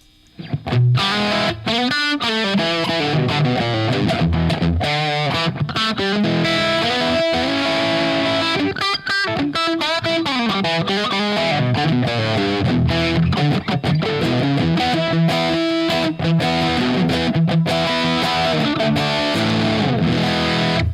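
Heavily distorted electric guitar played through a distortion pedal, riffing continuously at full volume, with thick sustained chords and a crunchy, saturated tone.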